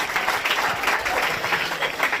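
An audience at a school talent award ceremony in East Champaran, Bihar, claps for the students in steady, dense applause that stays close and loud without a break.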